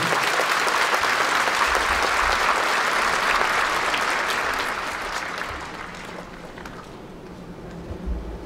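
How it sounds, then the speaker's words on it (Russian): A concert hall audience at the Loktev Ensemble's 85th-anniversary show applauds loudly and densely, then the clapping gradually thins and fades over the last few seconds. "Громкие аплодисменты, дорогие!"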